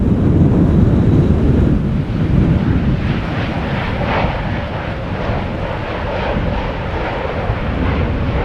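Airliner arriving at Amsterdam Schiphol Airport after a storm in strong wind, a steady loud jet roar mixed with heavy wind buffeting on the microphone, continuous throughout with no talk.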